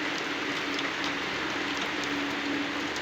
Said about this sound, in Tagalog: Ulan yun, ulan.